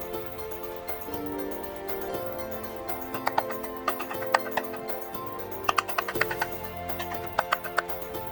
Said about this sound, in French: Je vais couper mes champignons.